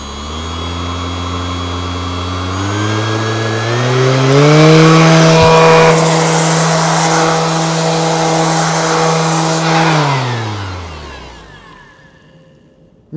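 A cordless random orbital sander starts at low speed. Its motor whine climbs steadily to a loud, high hum, holds there, then drops off and falls silent.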